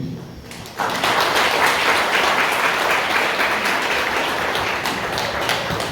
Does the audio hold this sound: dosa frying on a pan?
no